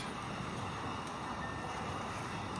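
Steady outdoor wind roars and buffets around Halloween animatronics in a yard haunt, a continuous broadband rush with gusty microphone rumble and no voices.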